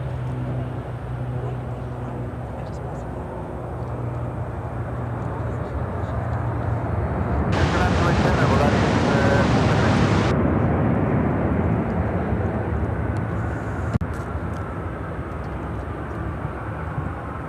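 An Airbus A350-900 jet arriving from Munich rumbles at O'Hare, a sustained engine roar that swells in the middle of the clip and then eases, with a voice heard over the noise.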